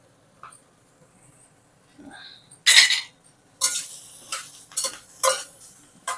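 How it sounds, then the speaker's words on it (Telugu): Ridge gourd pieces are stirred in a cooking pan, giving scattered scraping and clinking strokes of a utensil against the pan, with short gaps of quiet in between. "ఒకసారి కలిపేసుకుందాం."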